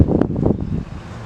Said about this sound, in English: it's breezy and there's bugs